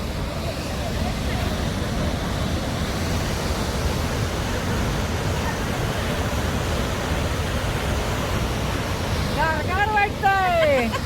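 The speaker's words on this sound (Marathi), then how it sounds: "खेडी वॉटरफॉल. नायगरा सारखा खेडी वॉटरफॉल." Khedi waterfall on the way to Gangotri pours in a steady, loud, broadband roar close by, with a brief tonal whistle-like sound near the end.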